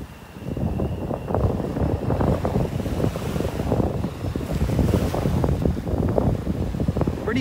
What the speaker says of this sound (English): Pretty breezy up here.